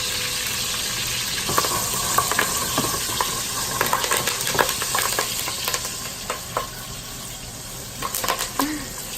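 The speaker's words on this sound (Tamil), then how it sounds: "லைட்டாக கொஞ்சம் அப்படியே பொன்னிறமாக வந்து லைட்டாக வதக்கணும்" Curry leaves sauté in hot oil for a village-style lamb curry, giving a steady close sizzle and frying hiss with scattered pops and spoon stirring scrapes throughout, no talking.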